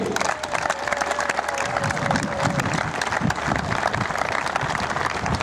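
A crowd at the 2017 Slovak Open tennis ceremony applauds the tournament runner-up from Paraguay, loud sustained clapping with some murmur and a faint voice underneath throughout.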